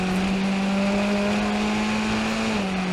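A race car's engine holds a loud, steady tone during a street race in Montreal, with a continuous whine and a slight drop in pitch near the end. No clear tire squeal stands out above the engine.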